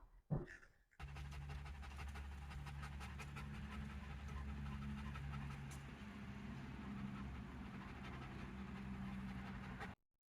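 Dogs pant continuously and fairly close for about nine seconds, steady rhythmic breathing that starts after a brief knock and cuts off abruptly at the end.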